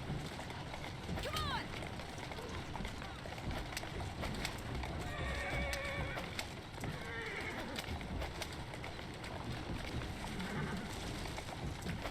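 A horse-drawn carriage in Assassin's Creed Syndicate clatters along with steady hoof clip-clops, a horse whinnying and rolling wheels, all fairly faint under continuous background noise.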